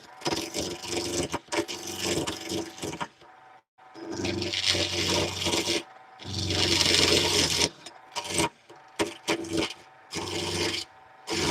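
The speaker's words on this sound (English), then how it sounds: "I'm actually getting a lot of practice in with the bowl gouge" A bowl gouge cuts wood on a lathe whose bearing has turned noisy, giving loud, rough rasping and scraping passes in repeated bursts with short pauses between them.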